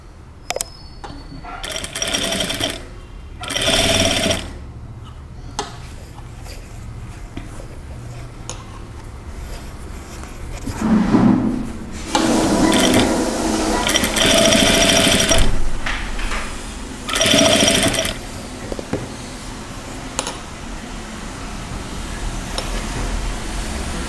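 Sewing machine stitching rounded piping on fabric, heard in several loud bursts of rapid mechanical stitching separated by pauses, with a steady machine hum in between.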